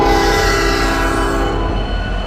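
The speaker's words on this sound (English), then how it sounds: "we're gonna be pressing hold the horn" Roblox commuter locomotive horn held down, a loud sustained chord that sounds steadily, fades slightly toward the end and gives way to low engine rumble.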